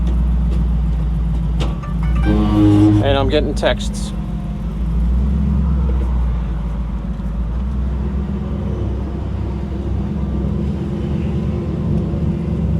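A truck drives along with a steady low engine rumble and road noise that fills the whole stretch, while someone talks briefly over it near the start.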